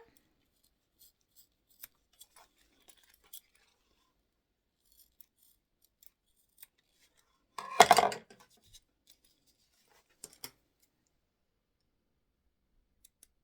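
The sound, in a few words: scissors cutting fabric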